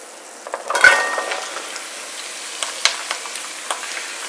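Carrots, onions and celery fry in a pot for wine-braised beef short ribs, giving a soft steady sizzle with a few light clinks and stirring taps scattered through it, and nobody speaks.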